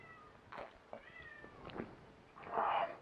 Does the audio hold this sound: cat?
yes